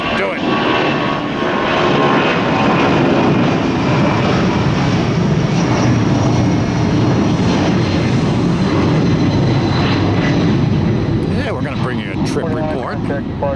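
An airliner takes off from Tampa International Airport with a loud, steady jet roar that fills the whole stretch, and a voice briefly speaks over it near the end.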